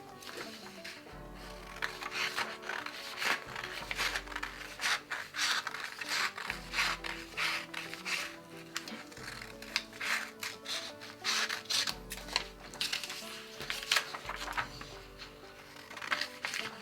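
Scissors cut through fabric along a bell-bottom trouser pattern in a run of repeated scratchy snips and rubbing strokes, close and quiet over a faint background hum.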